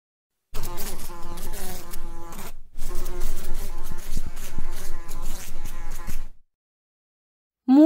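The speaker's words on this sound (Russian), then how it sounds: "Овод." A horsefly buzzes loudly and close in two long bursts separated by a brief gap, a droning insect hum with shifting pitch, heard alone with no voices.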